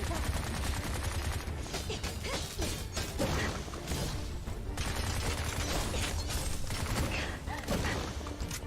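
Sustained gunfire from the player's weapon against the Forest Lord boss in the stylish action game Bright Memory, dense rapid shots and mechanical clatter running continuously at high level with action effects.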